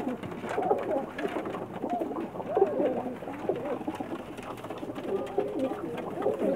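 Pigeons cooing steadily and close by in a loft, several birds overlapping in a continuous low, murmuring chorus that fills the whole stretch with no talk.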